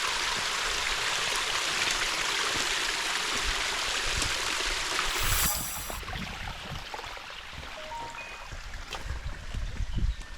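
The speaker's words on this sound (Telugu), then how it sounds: "ఫ్రెండ్స్ చూసారా స్టెప్స్ మీద ఎలా వాటర్ వస్తున్నాయో" Water on the Korigad Fort trek runs down stone steps in a steady broadband rush that drops in level halfway through, then continues as quieter trickling and splashing, close by.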